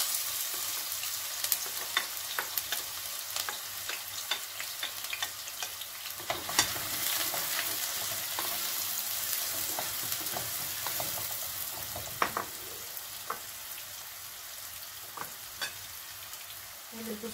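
Onions fry in oil in a pan and are stirred now and then, making a continuous close sizzle with scraping and tapping from the stirring and occasional louder clicks, with no talking.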